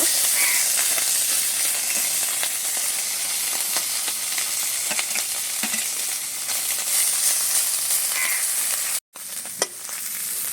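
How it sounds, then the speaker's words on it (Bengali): Mourala fish fry in hot oil in a kadai over a strong flame, giving a loud, continuous close-up sizzle with faint stirring touches and a brief break near the end. "মৌটি মাছগুলো ভেজে নেব"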